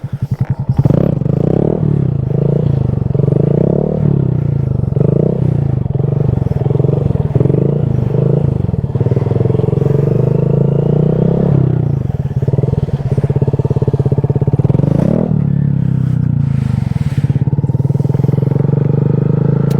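Honda Grom 125cc motorcycle riding at steady speed, its small single-cylinder engine droning loud and close with repeated rises and dips in revs as gears change, continuous for the whole stretch.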